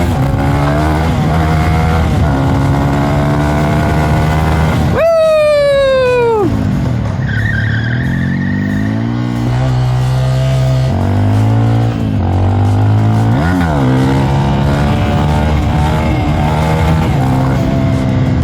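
A motorcycle engine runs loudly throughout, with a sharp rising rev in the middle that sweeps up and falls away, then a steady lower idle with small throttle blips.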